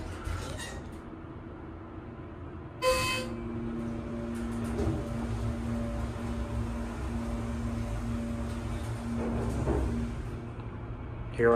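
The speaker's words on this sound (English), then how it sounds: "Now I hear the motor." A low, steady hum from a Schindler HT hydraulic elevator motor drones throughout with mechanical rumble, interrupted by a couple of short clunks and a sharp mechanical click near the start.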